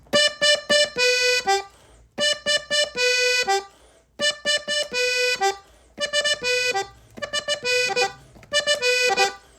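A G-tuned (Sol) diatonic button accordion plays a tune in five bright, reedy phrases separated by short pauses, each a run of sustained chord-backed notes, loud and close with no talking.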